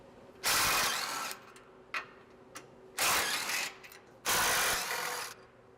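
A hand ratchet fitted with a 12 mm socket turns out the front support tube bolts on a 2016-2023 Toyota Tacoma, three loud bursts of rapid clicking close by, separated by short pauses.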